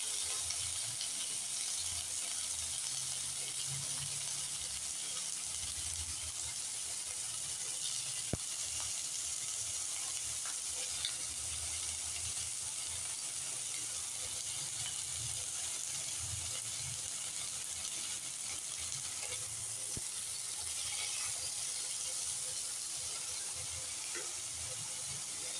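Pointed gourd and potato frying in a pan give off a continuous, even hiss and sizzle at moderate level, with no break for the whole stretch.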